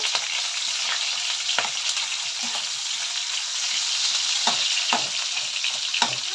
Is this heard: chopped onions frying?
yes